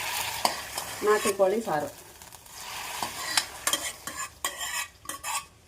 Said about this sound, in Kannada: ಇವಾಗ ಇದಕ್ಕೆ ಒಗ್ಗರಣೆ ಹಾಕ್ತಾ ಇದ್ದೀನಿ